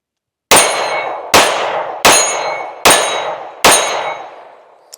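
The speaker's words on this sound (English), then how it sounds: "So let's shoot the Prime first, and we'll just put a few rounds through." Five loud, evenly spaced pistol shots from a Canik Prime, each followed by a bright metallic ring from a steel target that decays slowly before the next shot, with no talking.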